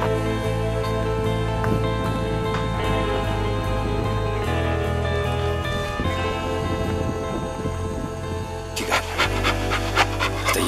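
A dog pants in quick, steady breaths close by, heard over a continuous low hum and other background sound, with no talking.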